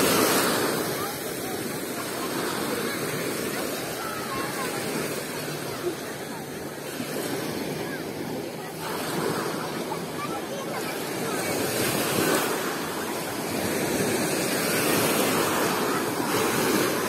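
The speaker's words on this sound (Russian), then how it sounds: "К вечеру начались волны сильнее." Continuous rushing surf of Sea of Azov waves breaking on a beach at Golubitskaya in the evening, swelling and easing in broad surges, with some wind buffeting the microphone.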